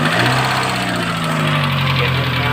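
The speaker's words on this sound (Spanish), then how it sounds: "A lo que suena es un sonido de escape" A Chevrolet Optra runs at a steady idle, its low exhaust note and engine hum continuous and close, with no pauses or talk.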